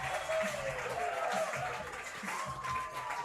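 Baseball crowd at a Jamestown Tarp Skunks vs. Batavia Muckdogs game cheering and applauding after a strikeout, a steady broad wash of clapping and crowd noise with a few whistles, fairly close and sustained throughout.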